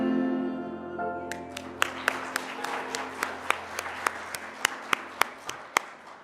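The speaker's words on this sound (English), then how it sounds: "We're doing a lot of clapping this morning." A church congregation at a Sunday service claps in a steady rhythmic beat, the sharp evenly spaced claps entering as a sustained sung note fades out, moderately close in a reverberant room.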